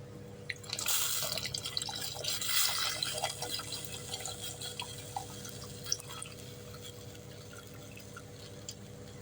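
Soaked tamarind water is poured into a simmering lady fish curry, giving a soft, steady liquid splash and trickle at low volume over a constant background hum.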